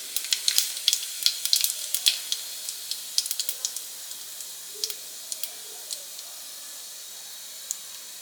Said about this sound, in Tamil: ஜீரகம் பொரிஞ்சிருச்சு.